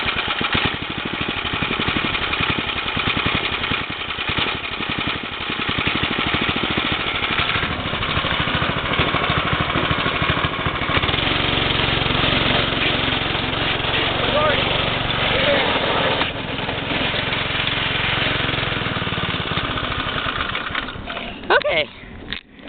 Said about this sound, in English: I'm going to try to do another hard acceleration run.